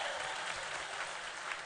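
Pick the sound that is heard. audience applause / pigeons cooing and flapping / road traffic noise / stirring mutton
audience applause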